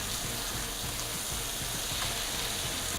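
A steak frying in a hot pan gives off a dense, continuous hiss and crackle, close and steady throughout, with no voices.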